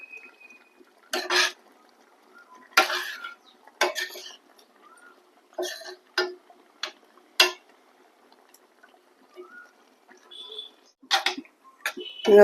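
A spoon stirs bread soaking in boiling milk in a pot for double ka meeta. It makes a series of sharp, close metallic clinks and scrapes at an irregular pace, with quiet bubbling between them.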